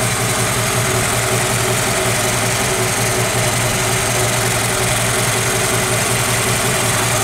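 A 1953 Ford flathead V8 idles steadily and loudly with a smooth, even rumble and no breaks, running continuously throughout.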